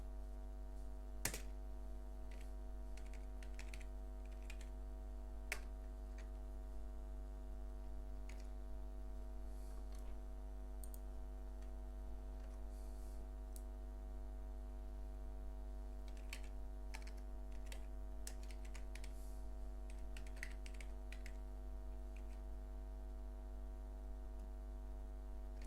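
Fingers type code on a computer keyboard in quiet, scattered bursts of clicky keystrokes over a steady background hum.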